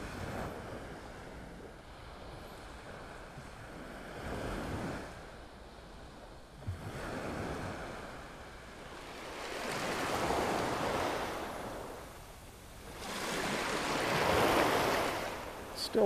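Surf washes onto Vanderbilt Beach in North Naples, Florida, before dawn, with broad swells of breaking waves rising and fading every few seconds under steady wind noise.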